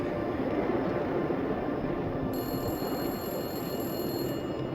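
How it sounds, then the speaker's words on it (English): A gas station payphone rings at night, a faint electronic ringing tone that starts midway and continues over a steady, loud background hum. "the payphone started ringing"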